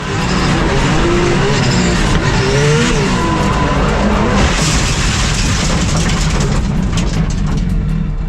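A Nissan S15 race car engine roars continuously at high volume, with tire squeal and skidding through two corners before a heavy crash impact boom.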